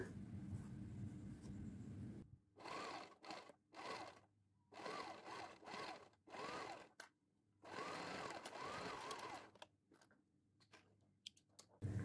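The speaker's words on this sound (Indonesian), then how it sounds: "dijahit semua yang di klip tadi" Sewing machine stitching a fabric diaper bag with a rapid mechanical whirring hum, running in several bursts of one to two seconds separated by short silent pauses, close and clear with no speech.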